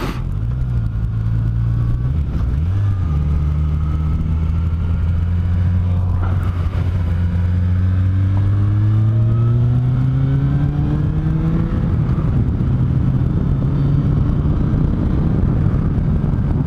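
A motorcycle engine is heard while riding on mountain roads. It is loud and close, climbing through rising revs and gear changes, with a steady low drone and no speech.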